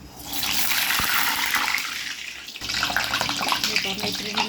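Shaped brain vada, a medu vada–style fritter with a hole pressed in the middle, slipped gently into hot oil, bursting into a loud, steady frying hiss and bubbling that fills the clip with a few sharp knocks.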